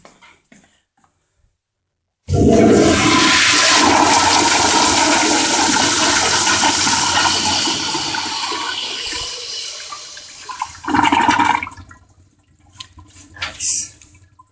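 A toilet flushes in a medical school restroom fitted with late-1980s fixtures, a loud, steady rush of water that roars for about eight seconds, then tapers into a gurgling refill with a final surge and trickles.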